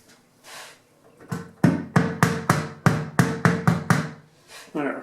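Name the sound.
hammering on the back piece of a door peephole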